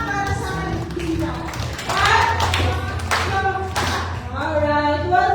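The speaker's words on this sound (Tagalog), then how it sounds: "Isang limang palakpak, alam na palakpak para sa kanila." Church congregation clapping in welcome at a Foursquare Gospel service, a few irregular bursts of hand claps mixed with voices talking in the hall.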